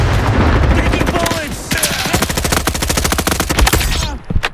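Gunfire in the Roblox Frontlines shooter, with rapid automatic bursts of close, loud shots in a dense rhythmic stream and scattered heavier cracks, continuing almost nonstop before briefly thinning at the end.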